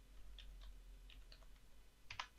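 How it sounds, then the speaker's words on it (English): Keystrokes on a computer keyboard while entering accounting data into a spreadsheet, a few soft scattered clicks followed by a brief quicker burst, quiet and close against a steady low hum. "I'm going to type in the date, account, and then particulate."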